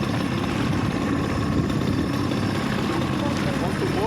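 A small jet turbo motor fitted with a moped exhaust on a motorized bicycle idles in neutral with a steady, close, low droning rumble, while voices talk over it.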